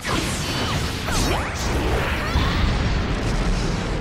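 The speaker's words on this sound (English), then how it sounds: "Fire style, Phoenix Fire Jutsu!" Phoenix Fire Jutsu fire attack from the fighting game Naruto Shippuden Ultimate Ninja Storm 4: a dense, continuous roar of whooshing blasts and crashing impacts, loud and sustained throughout with no pauses.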